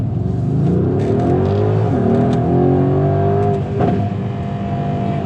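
A 2018 Mercedes-Benz GLC63 S AMG in Sport Plus mode revs loudly up and down close by, the engine note rising and falling through several sweeps over about five seconds with no talking.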